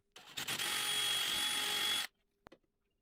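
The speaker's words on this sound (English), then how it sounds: "I start by drilling 4 6mm holes on the top of the holder." A power drill boring 6mm holes in the top of a holder whirs steadily for about two seconds at a high, even pitch, then cuts off sharply, followed by a brief click.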